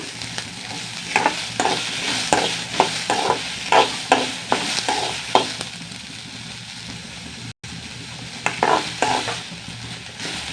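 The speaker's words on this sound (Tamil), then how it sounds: "கடுகு உளுந்தம்பருப்பு கருகிறதுக்குள்ள நம்ம வெங்காயம் போட்டு வதக்கிடுவோம்" Onions stirred into a hot pan with crackling mustard seeds, urad dal and dried red chillies while cooking drumstick-leaf poriyal, giving a steady sizzle broken by repeated scraping stirs, one brief dropout midway.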